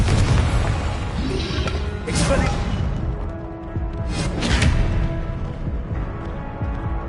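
In Hogwarts Legacy, Confringo blasting spells go off as loud, booming fiery explosions, two big bursts a couple of seconds apart over rumbling combat sounds.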